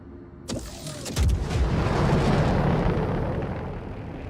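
A size 9 torpedo fired from an Eclipse ship explodes in the game Star Citizen, with a sharp launch crack followed by a big rolling boom that swells and slowly fades, loud and close.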